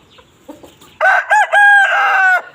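A rooster crows loudly up close, one long strained cock-a-doodle-doo after a few soft clucks and rustles.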